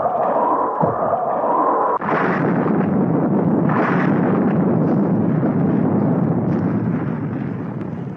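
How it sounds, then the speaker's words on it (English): Missiles fired from a Thunderbirds rescue craft to clear a nose cone, heard as a loud, sustained roaring rumble with bursts of blast noise around two and four seconds, no talking. "You've got to get that nose cone clear by firing the missiles."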